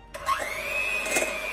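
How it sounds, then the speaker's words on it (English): A small electric hand beater whirs up to speed as it creams soft butter in a bowl for a cinnamon roll filling, a close, steady high-pitched motor whine that rises quickly after starting and holds its pitch with no talking. "I've got my little hand beater out."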